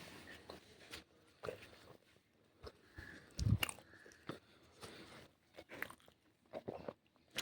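Someone eats hot luchi with boiled potato and pickle, making close, intermittent chewing and crunching bites with soft mouth noises between them.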